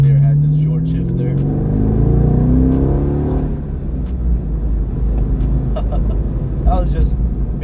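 A 2002 Chevy Corvette Z06 C5 drives in second gear, its engine a deep, steady rumble with a rising whir, while a person talks over it.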